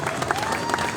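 Brief burst of crowd clapping at a general workers meeting in District South, Karachi, a dense and steady patter from a gathered audience.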